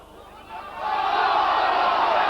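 Rugby league crowd at a Widnes versus Wakefield match jeers a referee's decision, a broad roar of disapproval rising after half a second and swelling into a loud, sustained wall of voices.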